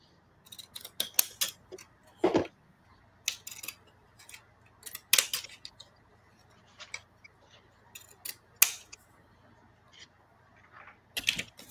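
Scissors trimming a fancy edge into craft paper, heard as sparse, sharp snips and clicks scattered over quiet moments, close and fairly soft.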